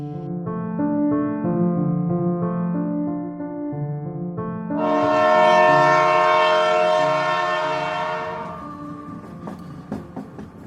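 A train travels toward a village in Jharkhand, its sustained harmonic horn sounding loud and near for several seconds before fading, while the low rumble of the moving train continues underneath with scattered clanks.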